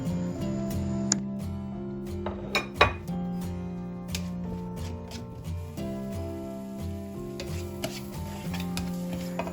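Butter and onion cook in a hot pan for a Finnish salmon soup, with soft sizzling under clinks and scrapes as a utensil stirs against the pan, quiet and close with no voices.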